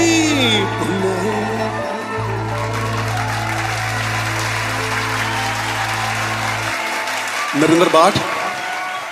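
Audience applause at a live Punjabi singing event, a sustained crowd clapping under a voice speaking over a sound system, with a held musical note and a brief burst of cheering near the end.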